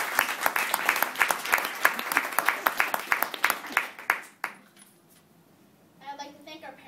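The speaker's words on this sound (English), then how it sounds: "Can I ask for one round of applause for them?" A small audience at a debate final claps for the Rotarians, a few seconds of loose, distinct handclaps that stop abruptly, followed by quiet and a voice beginning to speak.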